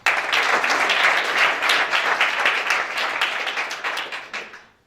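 A crowd claps steadily at a pitch event, a dense, even wash of many hands that holds loud for several seconds and then thins and fades out at the end.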